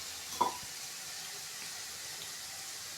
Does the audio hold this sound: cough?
no